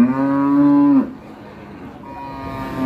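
A PO cow at a cattle market lets out a loud, close, sustained moo lasting about a second, followed by a quieter second low call amid faint market background.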